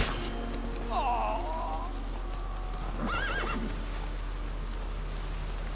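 Roach the horse in The Witcher 3 lets out two neighs, a wavering whinny early on and a shorter, higher one a couple of seconds later, over soft rain and hoof clip-clop.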